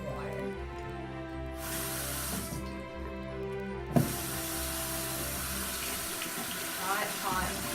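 Hot tap water runs onto homemade slime in a sink, a hissing splashing stream that starts, briefly stops, then resumes more strongly with a sharp clunk, alongside wet squelching sounds.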